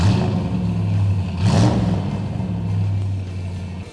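A classic Austin Healey V8 engine revs up and holds a steady, throaty drone, with a brief swell in the middle; close and fairly loud, with no talking.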